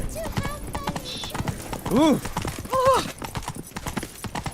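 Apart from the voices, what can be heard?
horse Roach galloping in video game Witcher 3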